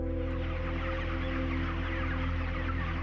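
Dense flock of chickens in an overcrowded broiler shed, a continuous murmur of clucking and chirping with a steady low mechanical hum from ventilation underneath, no pauses throughout.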